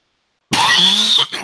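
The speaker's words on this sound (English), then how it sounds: "I got a little cough. I'm sorry." A single loud, close cough bursts out after silence, rough and throaty, trailing off with a brief second rasp.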